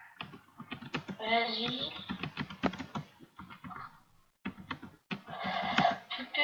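Quick bursts of keyboard typing while chatting in an online game, light clicks mixed with young voices talking and laughing nearby.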